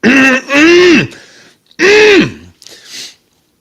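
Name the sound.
cough or throat clearing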